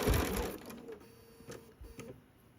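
A sewing machine stitches a quilt block of fabric with the needle down, giving a short, fairly quiet burst of whirring stitches at the start, then a few faint intermittent clicks and pulses.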